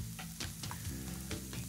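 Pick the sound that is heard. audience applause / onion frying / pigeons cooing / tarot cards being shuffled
onion frying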